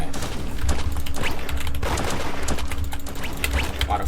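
Gunfire rattles through a multiplayer shooter video game, with dense bursts of shots repeating across the whole stretch at a steady loud level, no talk over it.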